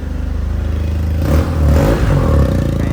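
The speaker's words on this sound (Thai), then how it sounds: "เดี๋ยวลองเร่งให้ฟังเสียงเครื่องยนต์นะ" A 2019 Yamaha TMAX DX 530 scooter engine idles with a rapid, even thump, then revs up sharply and loudly before settling, heard up close.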